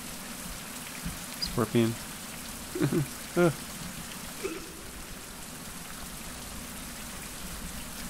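Rain falls steadily in a survival video game, a constant soft hiss throughout, while someone speaks briefly a few times over it.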